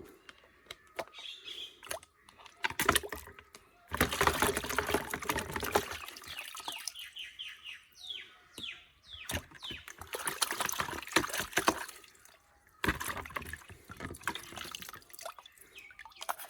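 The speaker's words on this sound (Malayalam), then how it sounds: "നമ്മളൊരു പാത്രത്തിനകത്ത് വെള്ളം എടുത്ത് അതിനകത്ത് ഇട്ട് കഴുകുവാണ്" A water tank filter is swished and washed in a vessel of water, giving several bursts of close splashing and sloshing with dripping and trickling between them, loud in places and quieter in the pauses.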